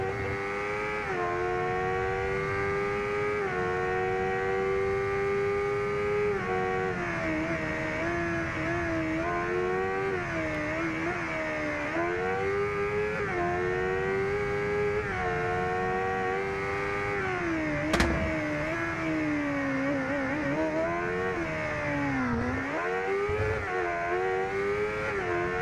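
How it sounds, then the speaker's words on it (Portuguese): Carbureted Honda Hornet motorcycle engine roaring steadily through the RIDE 2 racing game, pitch rising and falling with gear changes and throttle over a continuous loud drone, with no talking. "vamos ouvir um pouco o ronco do motor"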